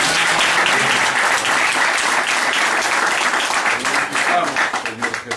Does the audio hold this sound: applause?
yes